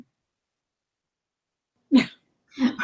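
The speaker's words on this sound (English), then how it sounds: "We're both coughing now." Silence, then two short, sharp coughs close by, the second about half a second after the first.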